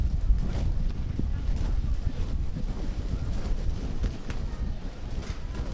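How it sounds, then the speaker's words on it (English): Strong wind buffets the microphone with a continuous low rumble and roar, gusting steadily throughout, at an outdoor rugby match. "A little bit windy here. It's really windy here."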